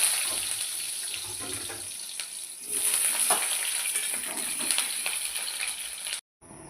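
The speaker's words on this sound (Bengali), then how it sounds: "পটল ভেজে তুলে নিয়েছি, ওই তেলে আলুগুলো ভেজে নেব।" Potatoes frying in hot mustard oil, a loud, close, continuous sizzle and crackle with faint stirring, cutting off abruptly near the end.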